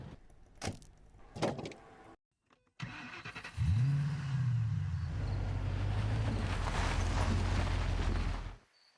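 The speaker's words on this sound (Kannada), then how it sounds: "ಅದು ಎನ್ವೈರನ್ಮೆಂಟ್ ಸೌಂಡ್ಸ್ ಆಗಿರ್ಬೋದು ಮತ್ತು ಕಾರ್ ಸೌಂಡ್ಸ್ ಆಗಿರ್ಬೋದು" Car sounds for a short film's sound design: a few door clunks and thumps, a pause, then an engine cranks and starts, settling into a loud steady idle before cutting off.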